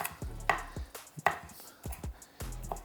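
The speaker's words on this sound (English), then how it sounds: "I like the bits to be kind of small, so I always go in for a nice cross chop there." Knife chopping crispy bacon on a cutting board, a series of sharp, close knocks in an uneven rhythm with short gaps between strokes, no talking.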